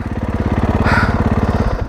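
A 2024 Kawasaki KX450 motocross bike engine pulls steadily while climbing rough terrain, with a loud, close, evenly pulsing exhaust note.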